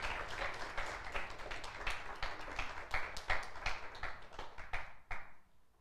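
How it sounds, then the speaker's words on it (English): Congregation applauding during a church service, a dense run of hand claps with some sharper individual claps standing out, steady for most of the stretch and thinning toward the end. "Let's give her a big round of applause."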